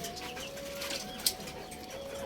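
Racing pigeons in a loft give a soft, faint coo under a steady background hum, with one brief sharper call partway through.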